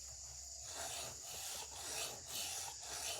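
Rhythmic back-and-forth scraping of a Sanrenmu knife blade across a Shapton ceramic whetstone, close and quiet, about six even strokes with no talking.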